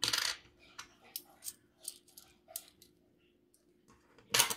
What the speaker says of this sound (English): God, I can't even pick these coins up.